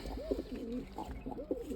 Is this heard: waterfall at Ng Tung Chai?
no